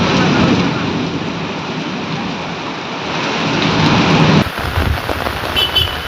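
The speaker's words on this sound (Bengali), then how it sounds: "প্রবল বজ্রবিদ্যুৎ সহ বৃষ্টি, যার জেরে জলমগ্ন হাওড়ার বিভিন্ন অংশ।" Heavy rain pours steadily during a strong thunderstorm in Howrah, West Bengal, with low rumbling thunder underneath. The dense roar of the downpour cuts to a thinner patter of rain near the end.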